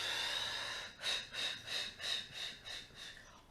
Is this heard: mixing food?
no